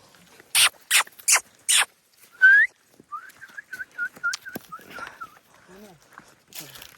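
Four sharp, loud barks from a dog in riverside jungle in Raigad, Konkan, in quick succession, then a rising whistle and a string of short, evenly spaced chirps.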